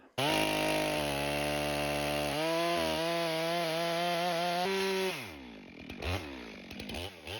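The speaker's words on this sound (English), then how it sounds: "it's going to push into the wood the way you want it." A chainsaw runs loud and steady, its engine pitch shifting as it plunge-cuts into wood, then sputters and drops off toward the end.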